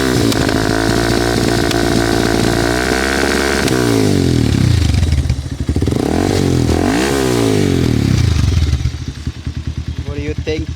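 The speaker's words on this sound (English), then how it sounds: "this is my Pulsar 220 and this is an inbuilt exhaust Yoshimura exhaust system specially made" Bajaj Pulsar 220 motorcycle fitted with a Yoshimura exhaust, revving loudly and up close in repeated rising and falling bursts with a rough, throaty idle between them.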